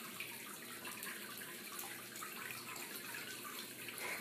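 Water from a small homemade outdoor fountain driven by a submersible pump splashes and trickles in a steady, continuous wash, moderately quiet and close, with no talking.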